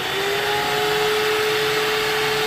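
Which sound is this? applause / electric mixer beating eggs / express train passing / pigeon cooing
electric mixer beating eggs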